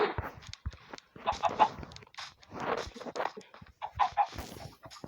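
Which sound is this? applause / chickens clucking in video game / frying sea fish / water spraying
chickens clucking in video game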